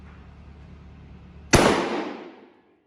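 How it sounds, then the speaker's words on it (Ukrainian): After a quiet stretch, a single sharp shotgun blast firing birdshot cracks out close by and its echo fades away over about a second. "Стріляти будемо дріб'ю з відстані 20 метрів."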